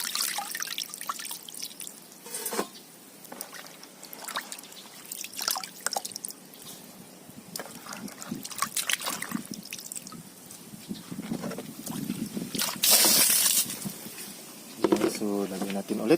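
Vegetables and sweet potato leaves are rinsed in water, with splashing, dripping and trickling heard close by in uneven bursts while a person talks over parts of it.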